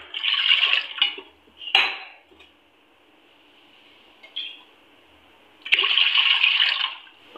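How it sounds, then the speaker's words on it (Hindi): Water splashes and pours in a few separate bursts into a metal pressure cooker, with pauses between the pours and a clink of metal. "हमें कुकर में 2 ग्लास पानी डाल देना है।"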